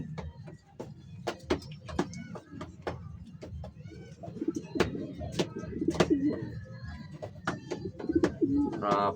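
Pigeons in a small mini loft cooing softly and repeatedly against a busy background of shuffling, wing flutters and sharp clicks, with other birds chirping nearby.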